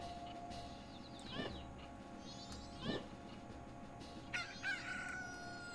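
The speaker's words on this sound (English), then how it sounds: "once you gather all of the chicks, they start turning into roosters" Roosters in a ranch setting in Zelda: Majora's Mask crow in several short, faint calls spaced a second or two apart over a quiet game background.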